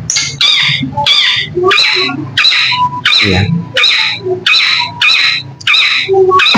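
A long-tailed shrike (cendet) calls up close in a repeated series of about ten loud, sharp harsh notes with a steady rhythm, while someone speaks briefly underneath.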